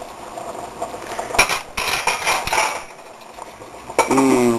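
Corn being stirred in a pot with roasted garlic dropped in, heard as close metallic clanks and scrapes of a utensil against the pot, loud and irregular, and a brief clink near the end.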